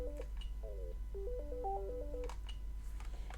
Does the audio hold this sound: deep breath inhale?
no